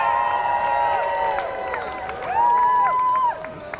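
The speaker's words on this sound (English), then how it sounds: "please give him a cheer on 3" Crowd at an outdoor costume contest cheering and whooping for an entrant, mixed shouts and pitched yells with a loud rise in the middle before it tapers off.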